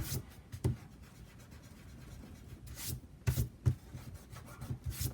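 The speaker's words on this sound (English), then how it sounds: "let me erase this here" Eraser rubbed across a paper planner page, a quiet scratchy friction with a few short louder scrubbing bursts near the end, close and alone with no talk.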